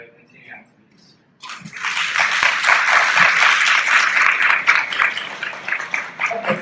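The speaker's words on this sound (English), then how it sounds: "One more round of applause for our student presenters." A college audience at a Food Day student research presentation breaks into steady, dense applause for the student presenters after a brief moment of quiet talk, sustained and loud through to the end.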